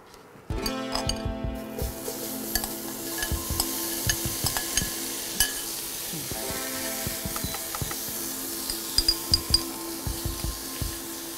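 Cauliflower sautéing in a pan for Bengali paturi, with a steady sizzle and repeated scraping and clinking of a spatula stirring against the metal, close and alone.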